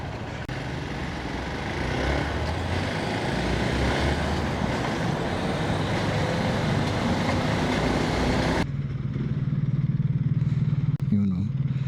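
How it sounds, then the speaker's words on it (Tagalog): A Suzuki GSR 1300 motorcycle engine runs steadily and loudly close by for several seconds, then the sound drops away abruptly to a quieter rumble. "GSR 1300. Nice bike."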